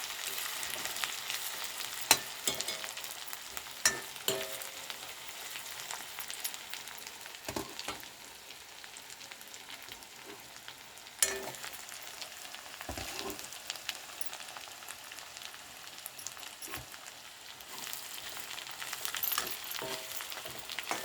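Masala roasting in a pan for egg biryani, a soft, continuous sizzle with occasional sharp scraping and stirring knocks from a spoon, close and fairly quiet, with no talking.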